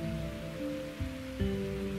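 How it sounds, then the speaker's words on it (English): Steady rain hisses in the god-simulation game GodHood, a soft continuous wash sitting beneath sustained tonal music throughout. "Now raining, but it's good rain because it makes the crop grow"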